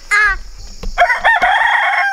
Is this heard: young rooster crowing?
yes